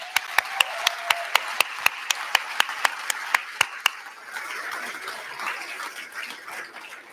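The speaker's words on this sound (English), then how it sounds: "I'm going to give everyone else a round of applause for the finalists and the winners just one more time" Audience applause for awards finalists and winners at a live skills awards ceremony, starting as sharp, spaced claps that soon blend into a softer, continuous patter of many hands.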